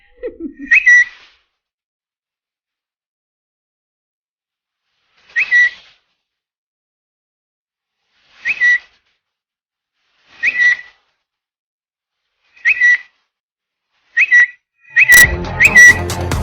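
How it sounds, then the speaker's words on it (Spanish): A person whistles short two-note phrases, spaced a few seconds apart and growing quicker, ending in a burst of noise. "ahora te toca silbar"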